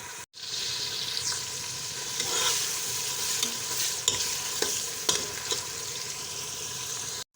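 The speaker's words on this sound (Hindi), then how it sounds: "अब प्याज को हम थोड़ा सा ब्राउन कर लेते हैं।" A large onion fries in about a cup of oil in a pan, giving a steady, fairly close sizzle with occasional stirring scrapes and pops over a constant hiss.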